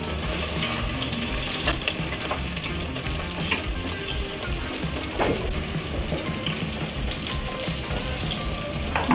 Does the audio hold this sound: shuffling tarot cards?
no